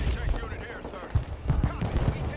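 Artillery shells land in Broken Arrow, a modern military strategy game, as a string of low, thudding impacts scattered over a rumbling battlefield bed, with several sharper booms in the second half.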